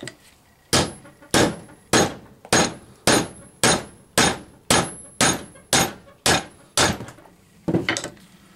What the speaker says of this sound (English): I should have a claw hammer right here somewhere